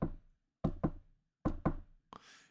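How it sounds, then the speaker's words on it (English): Knocking on a door comes as two pairs of firm, hollow knocks and a single knock, each separated by silence, followed by a brief softer rustle at the end. "you could hear the knocking frequently. The knocking on the door, and it kept on getting a little bit louder"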